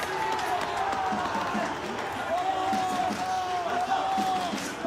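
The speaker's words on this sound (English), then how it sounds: "sends this crowd into a frenzy" An excited stadium crowd roars continuously in an eFootball match during the eLigue 1 McDonald's Grand Final, a dense steady cheer with faint whistle-like tones running through it.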